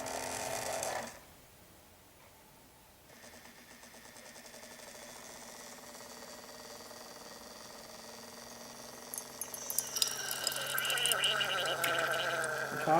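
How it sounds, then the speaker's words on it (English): A coffee brewer making an 8-ounce cup gurgles and bubbles over a steady mechanical hum that gradually builds, ending with louder sputtering near the close. "Coffee brewers trying to wake up."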